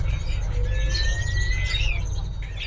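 A Blacken bird, a male cross between a Black Shrew and a canary, chirps and trills in bright thin notes over steady low background rumble, close and fairly loud.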